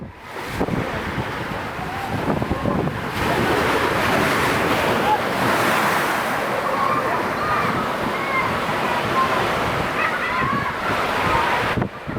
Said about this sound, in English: Newlyn Harbor was battered by massive waves that crashed deep inland, flooding nearby roads